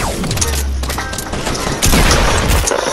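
Shotgun fire in a video game, heavy booming blasts mixed with mechanical pump and reload clatter, loud and close, including a sharp strong shot near the end.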